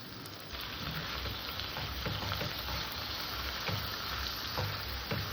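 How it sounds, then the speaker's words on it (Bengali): Prawns sizzling and frying with sour yogurt in a pan, a steady close crackle with dense spattering that holds evenly throughout. "টক দইটা দিয়েও আমি আর একটু কষে নেবো"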